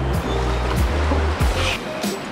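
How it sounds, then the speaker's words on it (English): A mountain river rushes close by, a loud steady churning of water with intermittent low thuds and knocks, and nothing else heard over the flow. "following the river going up"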